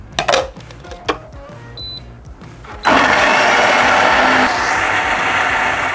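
An electric blender grinding a spice paste of oil and a little water, starting after a few clinks and knocks and then roaring loud and steady at close range until the end.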